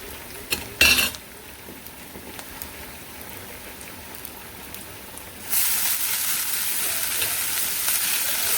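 Onions frying in a pan at home, clinking against the pan as they are stirred, then a loud, steady hiss takes over as more goes in and keeps sizzling.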